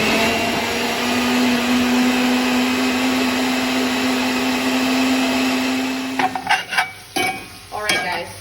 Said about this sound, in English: in our blender we have the fresh seasoning, and now we're going to puree it out into a nice smooth paste.